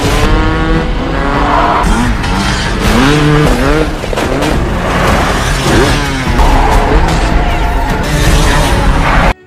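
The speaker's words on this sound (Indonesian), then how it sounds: "Charlie sendiri memutuskan untuk naik motor dan kabur dari tempat ini" A vehicle engine revs hard and speeds away in a loud, continuous roar with screeching tires and impacts during a film chase scene, as a man flees on a motorcycle.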